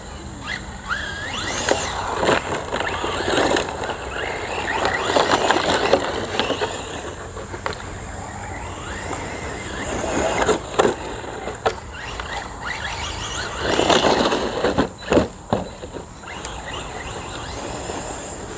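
A CEN Racing M-Sport Puma 1/8 scale RC rally car pushes through thick grass, its motor whining and squealing in surges against constant rustling and crunching, with sharper bursts near the middle and toward the end.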